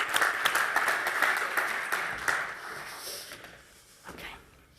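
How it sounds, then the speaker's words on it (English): A conference audience applauds as a hotel group CEO walks onto the stage, a moderate round of clapping that gradually tapers off, followed by a brief late burst of claps. "So please, a round of applause for Pierre as he comes up on the stage."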